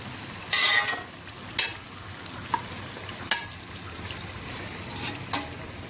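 Kajjikayalu, stuffed sweet dumplings, come out of hot frying oil over a steady low sizzle. Sharp metal scrapes and clinks from lifting and draining punctuate it at irregular intervals.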